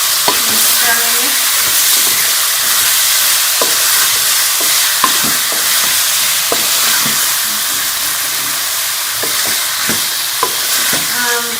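Potato slices fry in a pan with spices and tomatoes, giving a loud, continuous sizzle broken by sharp clicks of stirring.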